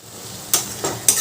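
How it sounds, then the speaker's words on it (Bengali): Chopped onion and small tomato pieces sizzle steadily in a pan for chicken curry, with three quick scraping stirs breaking through the close, continuous frying hiss. "এবার এই পেঁয়াজ আর টমেটো ভালোভাবে ভাজা ভাজা করে নিতে হবে"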